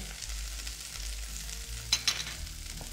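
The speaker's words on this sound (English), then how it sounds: "if you hear a sizzle, then that's a good sign" Steady crackling sizzle of cabbage frying in a hot pan, with a couple of brief clattering knocks near the end and no talking.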